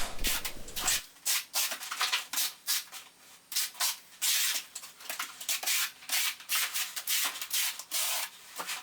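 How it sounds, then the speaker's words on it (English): A 1/4-inch square-notch trowel spreads and combs thinset across a subfloor for a heated floor mat install, giving a steady run of close, rhythmic scraping strokes with no voices. "you use the back of the trowel to key in the thinset, and then you put some more thinset down and put in the notches"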